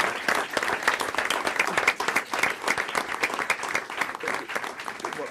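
At a county board of commissioners meeting, the room claps for the coaches: a crisp, uneven patter of many individual hands, clearly separate claps forming steady applause that rises and dips over several seconds.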